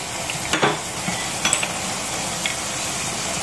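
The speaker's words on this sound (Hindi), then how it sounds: "अब इसे हम खोलकर इसका पानी जलने तक इसे पकाएंगे" Gajar ka halwa, grated carrot sweet, cooking in a pan as the moisture cooks off, a steady close sizzle with a few sharp stirring scrapes and clinks, no one speaking.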